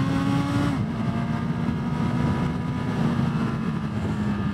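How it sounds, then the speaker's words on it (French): A Honda Hornet 1000 four-cylinder motorcycle engine revs up and holds a high, steady drone, loud and close with no talking. "Et là, vous entendez là, le moteur qui se réveille."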